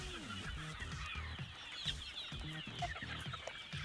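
Native chickens and growing chicks clucking nearby in a quick series of short, rhythmic low clucks over a soft hiss of background noise, close and moderately loud without talk.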